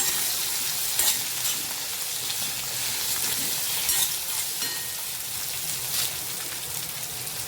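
Green chili and potato fry in oil with cumin for a fasting dish, a continuous steady sizzle with occasional stirring scrapes, close and moderately loud without talk.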